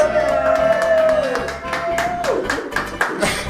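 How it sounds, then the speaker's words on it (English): A small crowd at a cook-off claps for the winning dish, sharp separate claps in an uneven rhythm with a tonal sound and voices mixed in underneath. "Please, a round of applause."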